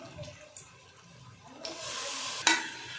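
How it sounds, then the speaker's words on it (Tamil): Country chicken pieces stirred into masala inside a pressure cooker for biryani, with a soft scraping stir and mild sizzle that swells into a louder steady hiss, plus a sharp clatter near the end; no talking. "சிக்கன்லாம் போட்டு நம்ம நல்லா மசாலாவில் போட்டு கரட்டி விடலாம்"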